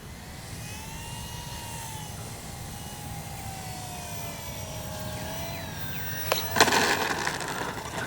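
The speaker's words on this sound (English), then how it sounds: "Timbers are just naturally great flying airplanes." An E-flite Timber RC airplane flies overhead, its electric motor humming steadily as the pitch rises and falls across passes, growing louder near the end.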